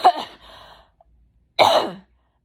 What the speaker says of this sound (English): I have an extremely dry cough